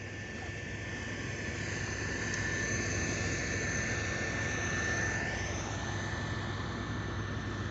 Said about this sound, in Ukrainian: Комбайнери непогано наловчились працювати з вигрузкою на ходу.